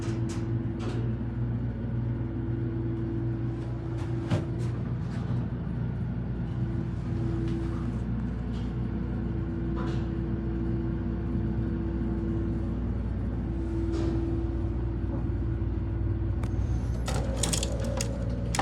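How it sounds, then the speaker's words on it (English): A Dover hydraulic elevator's motor runs during a ride in a Buffalo Grove, Illinois building, giving a steady low droning hum that holds for the whole stretch, with faint clicks and rattles scattered over it and a few sharper clanks near the end. "We'll ride up and then listen to the motor."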